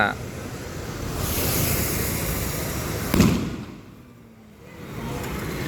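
Diwali firecrackers bursting outdoors, a broadband crackling roar with one sharp louder bang midway, mixed with wind noise across the microphone.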